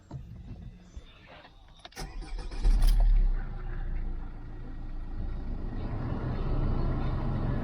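Car engine cranking and catching on a car with wiring loom faults, starting with clicks and a rising mechanical whir, then settling into a steady low idle rumble, close by.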